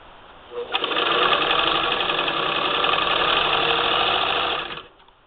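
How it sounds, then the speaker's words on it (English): Singer 66-16 sewing machine fitted with a generic new motor, stitching through fabric: a sustained fast mechanical whir with rapid needle clatter starts after a brief pause, runs steadily for several seconds, then winds down, close-up. "I have some fabric under the needle because hopefully the machine is just going to start sewing"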